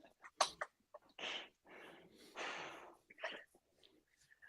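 A few short, sharp sneezes and snorts close by, mixed with breathy bursts and quiet sounds between them.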